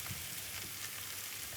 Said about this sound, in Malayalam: ഇനി മസാല വഴറ്റിയതിലേക്ക് നമുക്ക് കൂണ് ചേർത്ത് കൊടുക്കാം